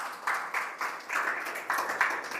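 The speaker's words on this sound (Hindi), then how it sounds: "आप लोग जोरदार ताली से स्वागत कीजिए" Audience clapping to welcome prize-winning students at a school gathering, a short burst of moderate applause with uneven rhythmic swells, no voices over it.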